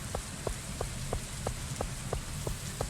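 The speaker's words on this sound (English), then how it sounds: "So today, we got some rain." Steady rain pattering in the Stardew Valley video game, a constant dense hiss over low thumps with a soft regular clicking chime repeating about every third of a second.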